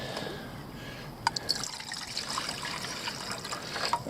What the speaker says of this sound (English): let's quickly add some water before we burn our pan and melt it